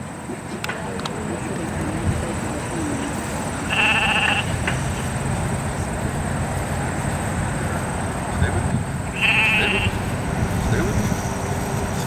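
Sheep at the Topsham Fair in Maine during a herding session bleat twice, a short call and then another several seconds later, heard over a constant windy outdoor background.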